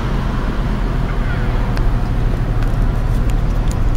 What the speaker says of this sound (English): Compressor is kicked on. And both fans are working here.